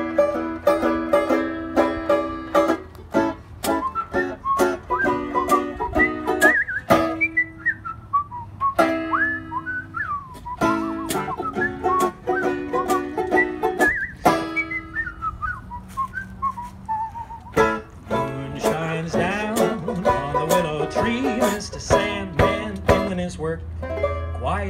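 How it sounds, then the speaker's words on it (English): A man performs a precision whistling song outdoors in a garden, a long, clear, melodic run of sliding and sustained whistled notes with steady rhythm and no pauses for talk. "what I'm going to be doing for you right now is a precision whistling song"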